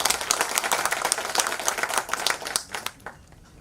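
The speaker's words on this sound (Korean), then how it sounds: "그 성실한 답변 해주신 후보자님들께 큰 박수 한번 부탁드리겠습니다." An audience at a county governor candidates' debate in Buan claps for the candidates: a short burst of dense, lively applause that fades out toward the end.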